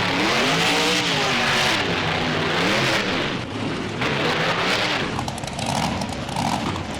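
A BeamNG video-game monster truck engine revs loudly and continuously, its pitch rising and falling in sweeping waves as the truck performs freestyle stunts on ramps at a fairground course.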